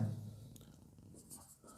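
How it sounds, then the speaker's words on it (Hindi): Pen strokes from someone writing out a math solution by hand on paper, soft scratchy scribbling that is faint and close, brief and alone with no voice. "सोल्यूशन लिखता हूं मैं"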